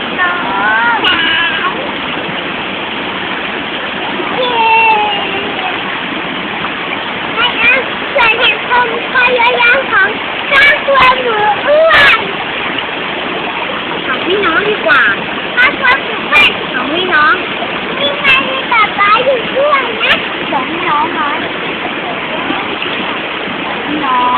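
Silphet Waterfall roars in a steady, dense rush of falling water that fills the whole stretch, with a voice speaking intermittently over it.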